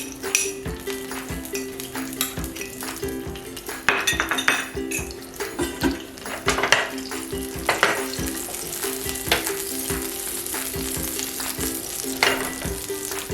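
Finely chopped ginger and garlic fry in two to three spoons of oil over a low flame, a steady crackling sizzle broken by metal spoon clinks and stirring scrapes, close and alone.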